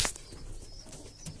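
Pigeons in a loft, with soft cooing and a burst of wing flaps at the start, a few faint close calls over a quiet background.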